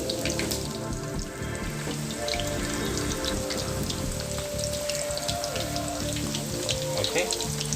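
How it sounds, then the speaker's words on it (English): Steady crackling sizzle of marinated chicken frying in hot oil, close and continuous with scattered pops, plus faint tonal hum in the background. "I'm going to now fry the chicken, which I've marinated for 10 minutes."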